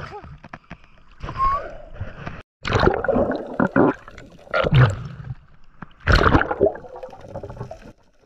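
Strong ocean waves slosh and splash around a small fishing boat in irregular heavy bursts with gurgling water between them, loud and close.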